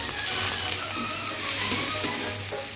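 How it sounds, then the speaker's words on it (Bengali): Prawns sizzling in a hot pan with garlic, chopped onion and green and dried chilies, a steady close frying hiss with faint stirring scrapes, no voices. "এবার অল্প আমি চিংড়ি মাছ দিচ্ছি।"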